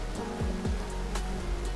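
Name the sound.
Malali Falls waterfall in Coorg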